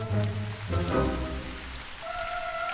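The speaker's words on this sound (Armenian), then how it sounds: "Ոնց որ թե անձրև է սկսվում" Rain begins falling in an animated cartoon scene, a soft patter of drops heard against tonal music that fades in and out.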